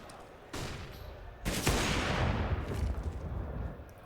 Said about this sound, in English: Quick shot from the AWP, not landing.